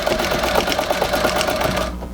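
A Singer 201-3 mounted in a treadle stitches upholstery-weight fabric, with a steady rapid mechanical clatter running close and continuous, then stopping abruptly near the end.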